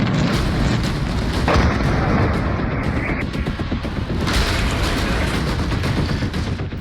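Explosions from Israeli airstrikes on Iranian cities rumble in a loud, dense barrage, with continuous booming and crackling bursts that swell and surge without pause, like news footage of heavy bombardment.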